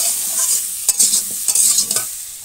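Spices sizzling in hot oil in a pan while being stirred with jeera, salt, turmeric and ground ginger and green chilli for a potato curry, a steady close fry with a few sharp scraping strokes.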